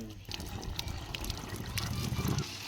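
Water pours and trickles into a household machine's tank in a steady, close stream that grows slightly fuller toward the end.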